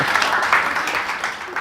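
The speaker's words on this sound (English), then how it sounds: "please give a round of applause to them" A magic show audience claps in a dense, continuous wash of applause that stays steady and fairly loud throughout.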